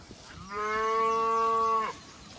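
A cow moos once in a pasture, a long, loud, steady low call lasting over a second, close by with no talk over it.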